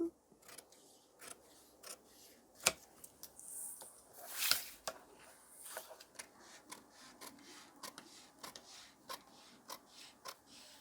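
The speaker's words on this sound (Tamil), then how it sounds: "இப்போ இதை அப்படியே பேக் பார்ட் கட் பண்ணிடலாம்" Scissors snip through blouse fabric while the back panel of a princess-cut blouse is being cut, a soft, close series of short rhythmic cuts and rustles, faint and unaccompanied by talk.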